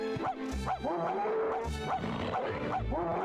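A dog barks in The Grinch video game: a few short, sharp barks with a rough, growly edge, spaced out over a few seconds amid game sounds.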